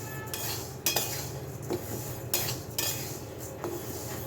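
Lentils dry-roasting in an unoiled pan are stirred with a utensil, giving repeated metallic scrapes and clinks against the pan over a low steady background hiss, close and moderately quiet.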